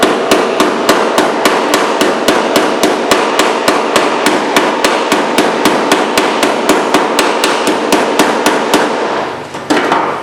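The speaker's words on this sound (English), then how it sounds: "now I'll take my hammer again" Rapid, evenly spaced hammer blows ring sharply on metal while fixing bullet holes for welding, about three per second, loud and close, stopping near the end.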